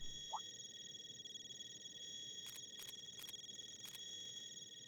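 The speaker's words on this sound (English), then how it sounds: "Everyone's ciphers are ringing all at once?" Many in-game cipher phones in Trails Through Daybreak ring at once, a faint steady electronic tone layered with brief repeated pulsing chimes in the second half. No one speaks.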